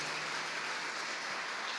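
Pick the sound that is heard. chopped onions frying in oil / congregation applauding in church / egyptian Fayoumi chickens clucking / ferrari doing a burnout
congregation applauding in church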